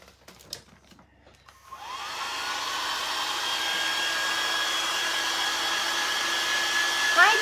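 A handheld dryer blows air to dry a craft item, starting after a few soft handling sounds and then roaring steadily and close, with no talking.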